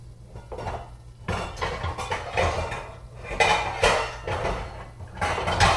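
Metal cookware clatters and clanks close by as a lid is fitted onto a pan of capsicum on a gas stove, with repeated knocks and scrapes.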